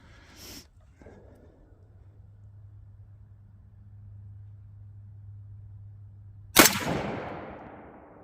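A rifle fires at a 50-yard target: a short report near the start, another soft one around a second in, then after a long low hum one loud sharp crack whose echo rings out over the final seconds.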